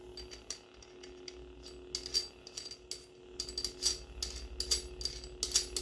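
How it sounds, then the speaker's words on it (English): Lightsaber pommel being screwed back onto its hilt on a 7Chambers Aniflex V1, giving a run of close, light metallic clicks and ratcheting ticks in irregular bursts with no talking. "I will screw the pommel back on."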